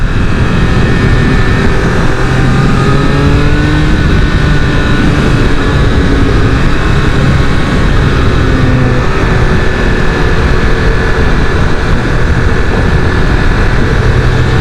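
A loud Triumph Speed Triple 1200 RR motorcycle engine drones continuously at close range, its pitch rising and falling as the throttle is worked and it revs.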